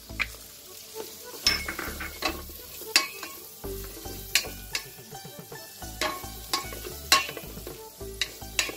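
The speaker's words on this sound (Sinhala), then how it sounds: "මේක දැන් ලුණු රන්වන් පාට වෙනතුරු වගේ බැදෙන්න ඕනේ." Onions frying in a pan with garlic for yellow rice, a steady soft sizzle broken by repeated scraping stirs and light clinks of a utensil against the pan, with no voices.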